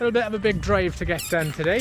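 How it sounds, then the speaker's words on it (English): A dog chews and squeezes a squeaky ball toy somewhere in the background near a parked camper van, giving brief squeaks beneath a person's continuous close speech. "Sorry if you can hear squeaking in the background."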